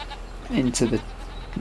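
A goat in Farming Simulator 25 lets out a couple of short bleats close by, with a voice talking lightly around them.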